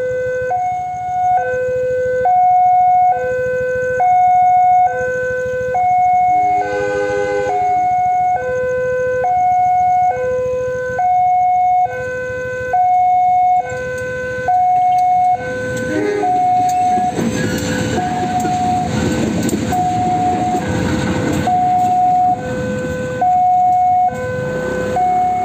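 Alternating two-tone signal rings steadily while a special train with a faulty locomotive approaches at midnight; a deep, broadband rumble swells in from the distance and grows loud under the signal.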